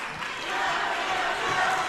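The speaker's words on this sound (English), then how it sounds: "The student section for the Highlanders on their feet, cheering on the Lady Highlanders to try to get possession back defensively." The Highlanders student section is on its feet cheering at a Scott vs. Kingston girls' basketball game, a dense and sustained crowd roar that swells slightly partway through.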